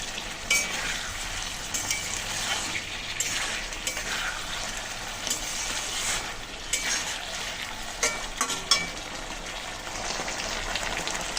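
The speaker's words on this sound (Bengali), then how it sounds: "মশলার সাথে আমি আলু আর মাছ একটু সুন্দর করে কষিয়ে নেব।" Potatoes and fish fried in spice paste in a pan, with a steady, close sizzle and crackle and occasional stirring scrapes throughout, no voices.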